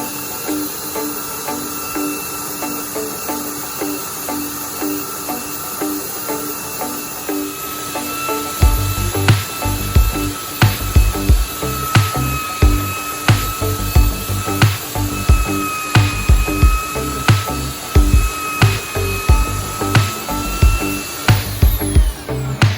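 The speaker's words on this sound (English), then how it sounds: "I'm going to go with my belt sander and go around the outside and just smooth everything out" Belt sander smoothing the wooden wall edges of a mini camper build, a loud steady whine that turns rougher and pulses rhythmically as the sander is worked along the edge, with a faint buzz before it bites.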